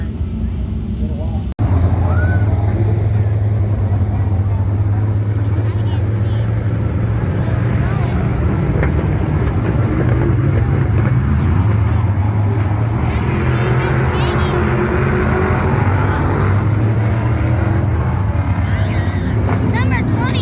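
Race cars at a dirt track raceway drone loudly and continuously after a sudden start, with a rising and falling engine roar and crowd murmur mixed in.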